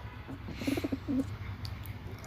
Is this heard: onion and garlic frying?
no